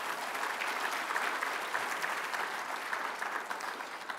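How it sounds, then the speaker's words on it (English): An audience at a legal report presentation breaks into sustained, dense applause, a steady wash of many hands clapping at moderate distance throughout. "give yourself a round of applause."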